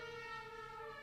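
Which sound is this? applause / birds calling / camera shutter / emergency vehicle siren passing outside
emergency vehicle siren passing outside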